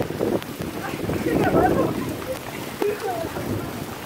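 Rain falls steadily through a storm in Nuevo Laredo, a continuous broadband wash with a brief thump partway through, while people talk over it.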